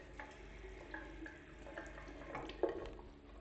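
A bathroom sink tap at a resort in Etosha National Park, Namibia, runs with low pressure, giving a faint, steady trickle of water with a few soft splashes, with no one speaking.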